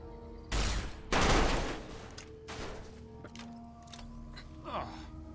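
Gunfire in Fallout: New Vegas, with two loud bursts near the start followed by fainter scattered shots and thuds, while a voice speaks briefly in the background.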